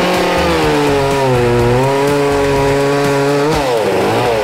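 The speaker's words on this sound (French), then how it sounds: "Moi, j'ai une passion, c'est interrompre les gens avec des tronçonneuses." A chainsaw cutting through wood, a loud close continuous high-pitched whine that holds steady and then dips in pitch as it bites harder into the cut.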